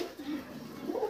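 Pigeons in a home loft coo softly in a low, rolling murmur, a couple of gentle swells close by with no talk over them.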